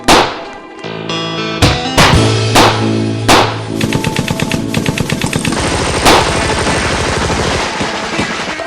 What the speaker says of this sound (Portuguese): Em seguida, toda a tropa dispara contra o bando.